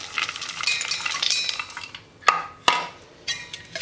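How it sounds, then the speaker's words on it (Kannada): Puffed rice churmuri with peanuts and chaat masala stirred in a bowl, a dry rustling toss followed by a few sharp clinks of a spoon against the bowl, close and clear. "ಇದನ್ನು ಒಂದು ಮಿಕ್ಸ್ ಮಾಡ್ಕೊಳ್ಳೋಣ."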